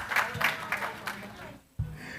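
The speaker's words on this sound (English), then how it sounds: "So let's give ourselves a round of applause." A conference audience at the International Blue Carbon & Wetlands Conference claps in a hall, giving steady, moderately loud applause that fades briefly before a voice comes in.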